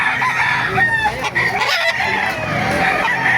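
Roosters and chickens at a poultry market in Baliuag crow and cluck continuously. Several overlapping crows ring out close by over a busy, dense background of other birds.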